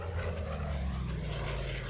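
Steady droning roar of a P-47D fighter's radial piston engine with a large turbo supercharger, a dense low rumble holding at constant loudness with no talk.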